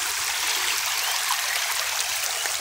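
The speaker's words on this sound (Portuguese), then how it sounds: "Olha aqui na deságua aqui, ó. Aí pra vocês verem, ó. Ó, onde a água deságua." Water pours from a dammed stream into a lagoon, a steady close rushing and bubbling wash that continues without a break and with no voices.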